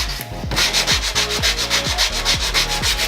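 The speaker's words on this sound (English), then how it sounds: "this 80 grit sandpaper is very capable of shaping the rest of this handle and sword." A wooden sword and handle being sanded with coarse 80 grit sandpaper, steady rhythmic back-and-forth rasping strokes about five per second, close and loud with no talking.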